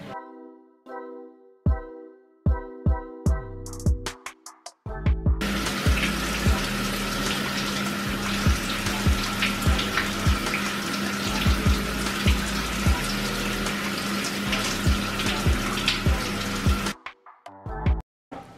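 Shower water runs in a steady, loud hiss for about twelve seconds, preceded by a few sharp knocks and clicks and ending abruptly, with no speech.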